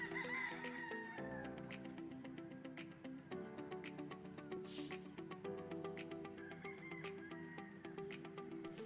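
Gamefowl chickens on a farm clucking and calling continuously while being watered, with a rooster's crow rising partway through, over a steady chorus of insects.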